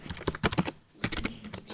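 Rapid clacking keystrokes on a computer keyboard type out a short message, close and crisp in two quick bursts with a brief pause between, no voice.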